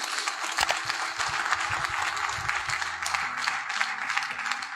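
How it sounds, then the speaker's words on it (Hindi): An audience at an agricultural awareness training event applauds farmers, with steady, dense clapping from many hands filling the hall throughout. "मैं चाहता हूं एक जोरदार ताली हमारे सारे किसानों के लिए होनी चाहिए"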